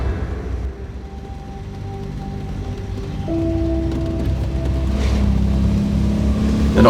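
A classic MGB GT with its roughly 100-horsepower stock engine drives along, a loud, steady engine drone heard from inside the car with no soundproofing, its pitch shifting as it changes gear.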